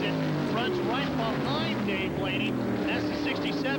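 USAC Silver Crown race cars scream around the Phoenix oval during the Copper World Classic, engines rising and falling as cars pass in close succession, while a commentator talks over the noise throughout.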